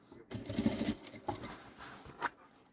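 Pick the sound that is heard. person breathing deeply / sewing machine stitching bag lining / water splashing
sewing machine stitching bag lining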